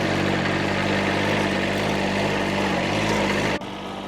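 A propeller airplane taking off near a farm garden drones with a loud, steady engine roar and a low humming tone that holds evenly, then drops off abruptly near the end.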